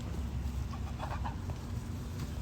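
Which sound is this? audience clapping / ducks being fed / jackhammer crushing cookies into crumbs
ducks being fed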